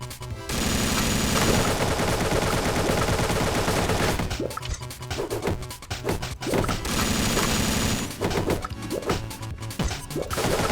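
An AK rifle fires repeatedly in the 2D action game Dungreed, with dense rapid gunshots layered over game music and clattering hit sounds, loud and continuous with choppy breaks in the second half.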